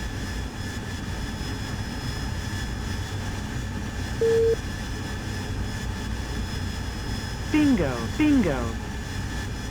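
Jet engine of an AV-8B Harrier in the DCS flight simulator during a landing approach, a steady broadband roar filling the background while a voice speaks and short tonal cockpit warning cues sound.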